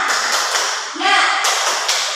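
Classroom students doing a rhythmic spirit clap during a lesson on properties of light, a few sharp patterned claps with voices chanting along, close and loud.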